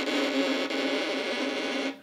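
Violin played with a freshly rosined bow in one slow, sustained stroke, a gritty, gripping scrape that is close and loud and ends abruptly after two seconds.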